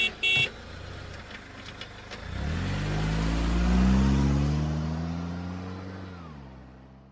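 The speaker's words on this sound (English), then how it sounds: "So this is a vehicle." A car starts with a short horn toot, then its engine revs up in a rising, swelling roar that peaks and slowly eases back down, loud and close, with no one talking.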